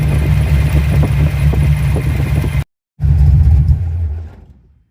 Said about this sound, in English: we've got a pretty nice idle, 800, 900 RPM